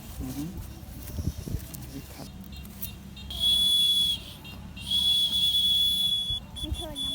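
A thin, high whistle made from a rice stalk sounds twice in sustained notes, each about a second long, over quiet background noise and shuffling.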